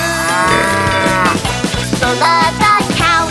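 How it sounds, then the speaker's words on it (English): A cartoon cow in a children's animal song gives a drawn-out moo, heard loud and close over a bouncy musical backing. "She goes moo."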